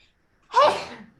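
A single sharp sneeze bursts out close by, loud and brief, then fades quickly into quiet.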